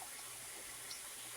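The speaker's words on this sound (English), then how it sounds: "that's a beautiful rolling boil." Water at a rolling boil in a canner holding herbed tomato jars, a steady, even wash of bubbling and hiss with no pauses and no voices.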